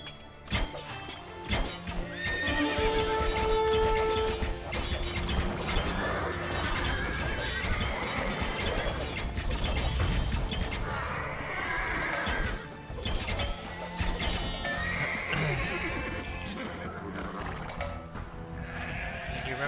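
Horses whinny and neigh repeatedly in the video game Age of Empires II, with clip-clopping hooves, sheep bleats and battle clashes layered over game music.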